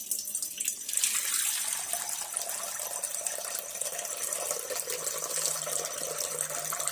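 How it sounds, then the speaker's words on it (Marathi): Washing water drains from soaked poha (flattened rice) in a steady, close rush of running water that pours loudly and continuously with no talking. "आता हे धुतलेलं पाणी आपल्याला हे काढून घ्यायचं आहे"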